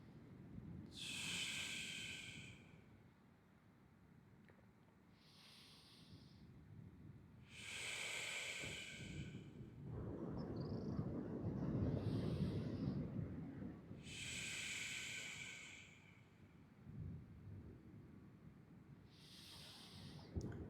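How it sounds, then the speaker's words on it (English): Slow deep meditation breaths, each a long airy inhale or exhale lasting a couple of seconds, repeat about six times in a calm, quiet setting with no talking. "Just take 3 deep breaths."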